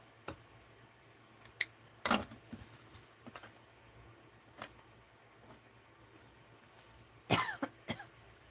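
A person coughs in a quiet craft room, a few sharp bursts spread over several seconds, near and fairly loud against a low background hum.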